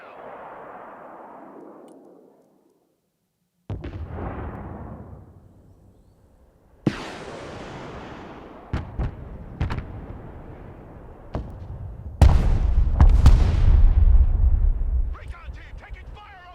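Artillery fire in the Broken Arrow strategy game: heavy booming blasts and sharp gunshot cracks land in irregular bursts, with loud rumbling explosions building toward the end, all up close and dense.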